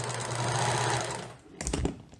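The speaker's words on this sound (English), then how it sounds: "the vibration of the serger made the camera not happy" A serger overlocking a seam on baby bloomers runs loud and close with a steady, fast mechanical whir for about a second, then stops, followed by a few soft thumps and handling knocks.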